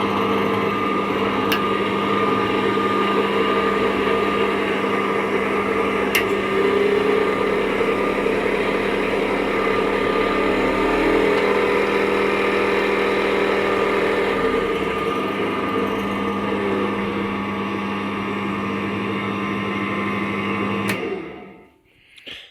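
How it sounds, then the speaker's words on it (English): A variable speed wood lathe, freshly fitted with new headstock bearings, belt and pulleys, runs with a steady close motor hum whose pitch shifts slightly partway through as it steps between speeds, then stops abruptly near the end. "just to prove that it's all working, step it through the gears."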